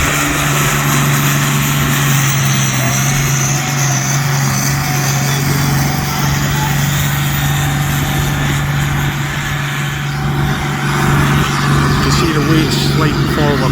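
A Fortune Major tractor with a 380 cargo engine in the Super Farm class at a tractor pulling event in Brechin, Scotland, holds a loud, steady engine drone with a low hum, running continuously under an announcer's voice.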